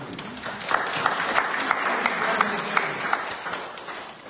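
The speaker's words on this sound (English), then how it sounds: "So I think we should give a round of applause." Applause from the audience at a village board meeting, a steady wash of clapping across the whole stretch with a few sharper claps standing out, heard at moderate distance.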